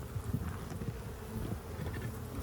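Honeybees fan and buzz over a hive frame of nectar, a dense, continuous close-up drone with no voices.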